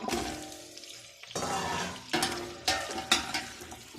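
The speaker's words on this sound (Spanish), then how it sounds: "En este momento voy a agregar las zanahorias que ya las separé." Carrots dropped into a pan of onions frying in oil, a soft steady sizzle broken by several sharp crackling bursts as pieces hit the hot pan and are stirred.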